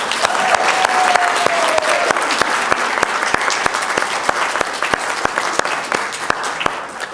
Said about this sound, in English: I want everybody else in here to give them a great round of applause